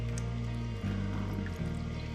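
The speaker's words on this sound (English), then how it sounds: "And I'm going to pour in the water into the center" Water poured into the center channel of a chicken egg incubator during hatching prep makes a soft, steady liquid trickle and splash under a constant low electrical hum.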